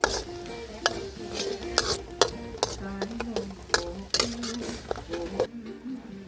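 Garlic fries in a pan while a utensil stirs it, with sharp clinks and scrapes of metal on the pan at an irregular pace over a faint background sizzle, close by.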